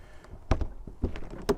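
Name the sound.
caravan door shutting after lock replacement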